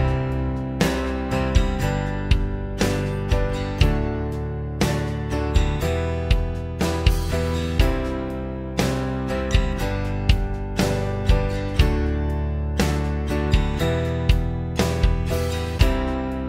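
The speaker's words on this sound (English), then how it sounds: "So it starts on the four, it goes to the one, it goes to the five, it goes to the six, and then it just keeps repeating." A four-one-five-six chord progression played over and over with a steady beat, each chord struck in full with crisp percussive attacks, loud, close and continuous for the whole stretch with no talking.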